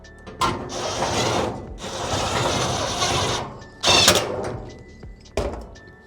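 Screws are driven into a Maytag dryer blower housing with a power driver, making long buzzing whirs in several separate bursts broken by short pauses, close and loud.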